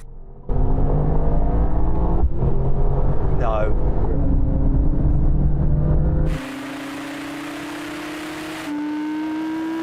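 A Mercedes-AMG GT 63, Audi R8 and Porsche 911 Turbo drag race. One engine roars loudly as it accelerates, its pitch climbing through the gears. The sound drops abruptly to a quieter drone, then swells slightly near the end.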